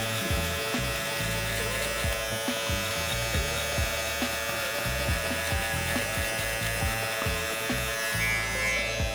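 Electric hair clippers fitted with a half guard buzz steadily and loudly throughout, cutting hair to set a guideline for a bottom-up taper, with faint low knocks as they move against the head and no talk.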